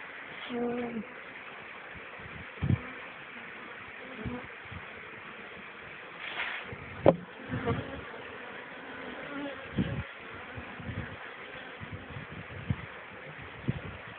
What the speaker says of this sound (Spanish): Esa es una abeja que quiere salir.